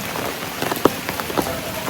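Rain patters on an umbrella, with scattered close drops tapping against the canopy over a steady wash of rainfall.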